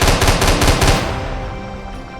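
Rapid bursts of aircraft gunfire from a Spitfire in Minecraft's Create Aeronautics mod, loud and close, with dense automatic rattling over the first second before trailing off into a ringing decay.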